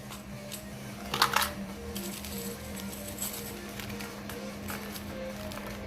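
Old, worn 102 pen nibs rattle together in a container, a brief cluster of metallic clinks followed by softer scattered jingles over a steady low hum, close and quiet.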